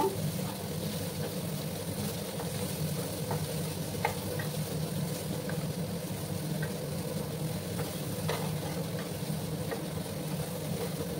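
Bitter gourd fries in a pan with a steady, close sizzle, while occasional light scrapes and taps from stirring come through; no one speaks.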